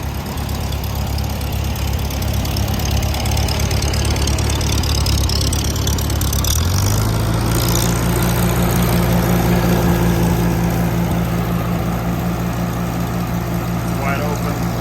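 A Farmall B tractor's four-cylinder engine runs steadily at a smooth, even idle, then its low hum shifts to a higher, steadier pitch partway through; close and continuous, with no voices over it.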